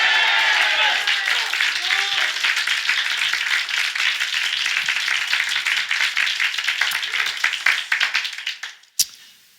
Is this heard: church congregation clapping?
yes